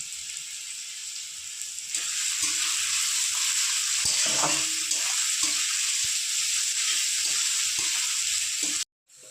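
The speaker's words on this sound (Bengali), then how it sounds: "ভালো করে রসুন আর পেঁয়াজ লাল লাল হয়ে ভাজা হয়ে আসলে" Steady loud sizzling of garlic and onion frying in hot oil, with brief stirring scrapes partway through before it cuts off near the end.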